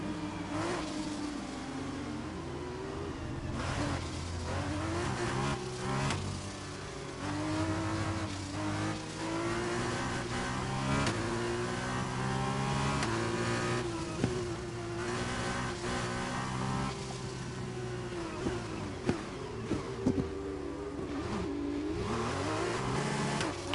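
An F2 race car at Bahrain in a racing video game, its engine revving up and down through repeated gear changes, rising pitches broken by shifts, loud and continuous throughout with occasional sharp knocks.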